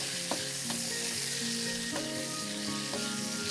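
Raisins frying on medium heat in a pan for papaya halwa, a dense continuous sizzle with crackling, punctuated by a few light stirring scrapes, close and steady with no talking.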